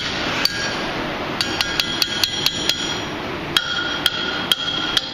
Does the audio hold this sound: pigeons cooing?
no